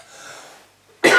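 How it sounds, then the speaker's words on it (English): A man coughs once, a short loud harsh burst at the very end after a stretch of quiet low background noise. "I've still got this cough on and off, but nowhere near as bad as it was."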